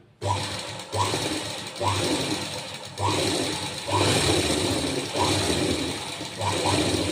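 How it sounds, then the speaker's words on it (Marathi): A sewing machine stitches blouse fabric for a boat-neck blouse, running in a series of close whirring bursts separated by brief stops, loud and near, with no clear speech. "आता लगेच याच्यावर आपण दाब शिलाई करून घेऊया अशा पद्धतीने पूर्ण कापडावरती दापशिलाई करून घ्यायची"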